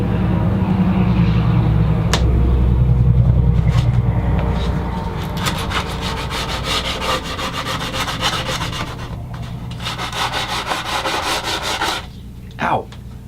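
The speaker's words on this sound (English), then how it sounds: "I'll just give it a light sanding by hand, just to remove any splinters or sharp corners." Reclaimed wood fence pickets made into a serving tray are sanded by hand, giving a steady loud rubbing scrape that turns into rapid back-and-forth strokes, then stops near the end with a short sharp sound.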